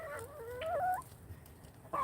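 Turkeys and silkie chickens cluck and call as they run over toward a feeding bucket outdoors, a close, rising burst of fowl vocalizations followed by a short quieter gap and another call.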